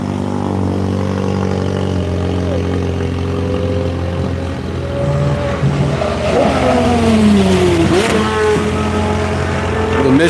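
Corvette race car on a track, its engine droning steadily nearby and then rising and falling in pitch as it revs and shifts, with other engine noise in the background.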